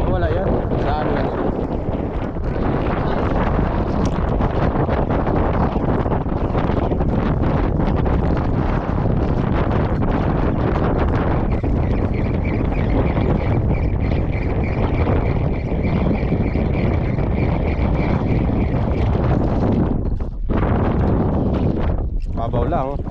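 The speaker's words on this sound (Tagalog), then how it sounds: "Sinadaanan tayo ng hangin." Strong wind roars and buffets the microphone on a small fishing boat at sea during micro jigging, a steady loud rush throughout with people talking intermittently underneath.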